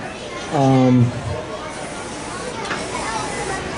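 A non-stick waffle iron being coated with cooking spray: a single short, loud hiss from an aerosol can lasting about half a second, followed by quieter kitchen background.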